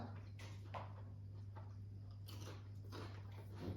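Someone bites and chews crunchy, slightly greasy paprika crisps up close in a quiet room, with irregular crackling crunches over a steady low hum.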